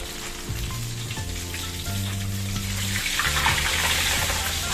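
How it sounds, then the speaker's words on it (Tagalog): Oil sizzling and crackling in a pan holding a large amount of cooking oil for deep-frying dinakdakan ingredients, a steady bright hiss with low bubbling underneath, close and fairly loud. "i-check natin yung ating piniprito"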